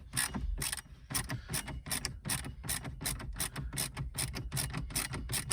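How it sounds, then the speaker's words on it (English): Rapid ratcheting clicks from a socket wrench backing out bolts during a Volkswagen head unit installation of an Eonon Q53Pro replacing an RCD330, a steady fast rhythm of sharp close clicks in bursts, no talking. "So that is the last bolt out of there."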